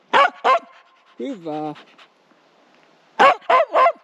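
A Finnish Spitz hunting dog barks nearby in two short bursts, a pair at the start and a quick run of three near the end, with a man's brief spoken word in the quiet gap between them.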